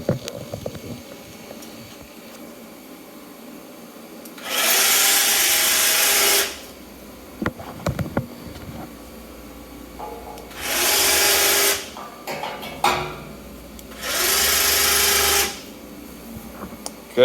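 A bandsaw cuts a metal tube inside a factory built into a 53-foot reefer trailer: three separate loud bursts of harsh, steady cutting noise, each a second or two long, with quieter clatter and handling sounds between them.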